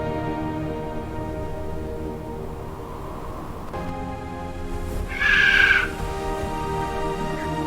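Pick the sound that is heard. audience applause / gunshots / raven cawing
raven cawing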